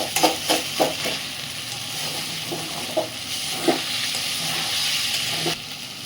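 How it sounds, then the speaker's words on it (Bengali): Spiced food with turmeric sizzles steadily in a wok and is stirred, with several sharp spatula scrapes and clinks early on and a few more later over continuous frying hiss. "একটু পরে নাড়তে থাকবেন নাহলে কড়াই লেগে যাবে"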